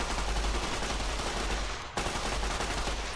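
Submachine gun fire in Fallout, a steady rapid rattle of automatic shots, loud and close, nearly continuous with one brief break.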